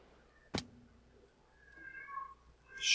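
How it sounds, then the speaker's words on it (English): A cat gives a single sharp meow followed by a few softer, drawn-out mewing calls, fairly close and loud, with no talking over it. "Shut up, you ridiculous cat."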